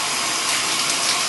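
Shower water runs in a steady, close broadband hiss, with even spray and no voices over the brief stretch.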